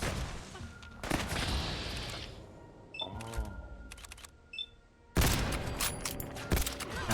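Gunfire from respawned gunner raiders in Fallout 4, with bursts of shots and clattering impacts that come and go, loud and close, mixed with other game sounds.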